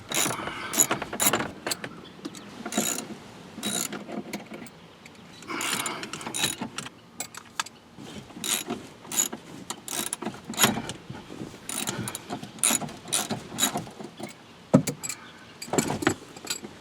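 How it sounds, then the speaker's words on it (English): Nuts are taken off to lower the steering column of a Ford pickup, heard as intermittent close metallic ratcheting and clinking of tools in short bursts with quiet gaps between. "there are 4 nuts I need to take off to get this thing out"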